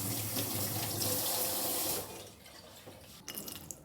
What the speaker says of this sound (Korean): 삶아진 마카로니는 찬물에 헹궈내 물기를 제거하고